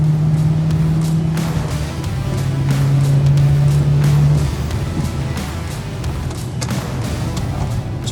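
A strained Vauxhall VXR engine drones at high revs on a race track, a steady loud tone that holds and then fades as the pitch drops, with a few thumps.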